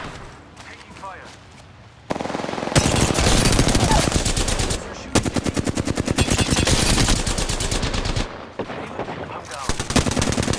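Sustained automatic gunfire in Apex Legends, long loud bursts of rapid machine-gun fire with brief pauses between them, close and dominant, with some talk in the background.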